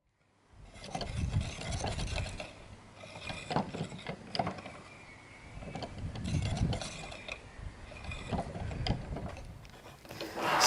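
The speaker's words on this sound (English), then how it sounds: "I put a sheet of wood on top, flat sheet of wood, and some bricks, and rolled it along the desk" A flat sheet of wood loaded with bricks rolls along a desk on constant-width rollers, giving a continuous grinding, rumbling roll with faint clicks, swelling and easing in waves for about ten seconds, close by and with no talk.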